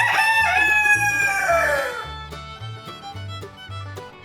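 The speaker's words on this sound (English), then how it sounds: "got up close and personal with a really noisy rooster who did like to make himself known" A very loud rooster crows up close at a farm, one long drawn-out cock-a-doodle-doo, followed by low clucking and short calls from nearby fowl.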